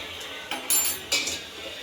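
A spoon stirring spices into chicken biryani in a metal pot, giving a few short clinks and scrapes against the pot, close and fairly quiet, with no talking.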